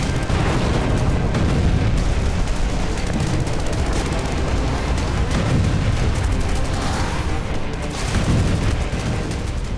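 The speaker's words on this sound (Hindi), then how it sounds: "दुश्मन के ठिकानों पर ड्रोन से ग्रेनेड दागे" Heavy combat noise from grenades dropped by drones onto enemy positions: continuous loud booms and blasts with crackling gunfire-like bursts, dense and unbroken throughout.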